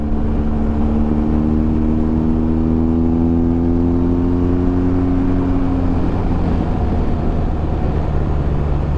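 A 2023 BMW R1250 GS motorcycle with a quick shifter pulls hard, its loud, close engine drone rising steadily in pitch before dropping sharply at a quick gear change, then continuing under strong wind rush.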